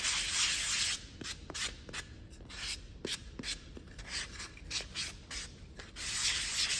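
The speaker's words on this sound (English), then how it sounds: "I'm just gonna sand a little bit." A sanding block rubs across a painted wooden sign between coats of white paint, making a close, raspy scraping sound. Short, uneven strokes run back and forth, broken by brief pauses, with no talking.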